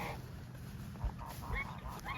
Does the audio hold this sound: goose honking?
yes